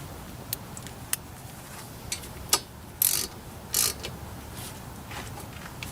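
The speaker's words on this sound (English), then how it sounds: "and I'm gonna be tightening this." A ratchet works a bolt on a 2002–2006 Honda CR-V front brake assembly: scattered quick clicks, then two short buzzing ratchet runs, close and fairly quiet with no talking.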